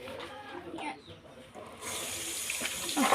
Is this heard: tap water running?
yes